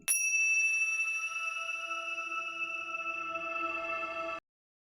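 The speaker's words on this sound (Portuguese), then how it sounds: "a nossa vibração começa com este sino." A single meditation bell is struck once and rings out clearly, its bright metallic tone sustaining with layered overtones for about four seconds before stopping abruptly.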